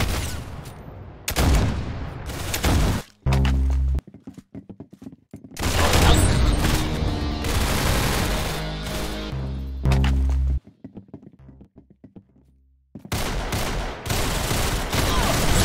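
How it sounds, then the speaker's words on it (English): Gunfire in the Roblox game Arsenal comes in loud, dense bursts of rapid shots with booming impacts, broken by short pauses. "That's some beautiful shooting right there."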